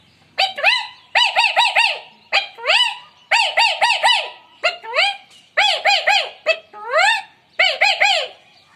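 A voice mimics a caged parrot with rapid, repeated squawking chirps in short bursts of three to five calls, loud and close, separated by brief pauses.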